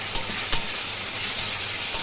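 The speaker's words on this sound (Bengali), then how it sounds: "ভালো করে মশলাটা ভেজে নেব।" Masala with chopped tomato frying in a pan for a fat-and-red-lentil tadka, a steady broadband sizzle with a few soft spoon clicks, close and moderately loud, no talking.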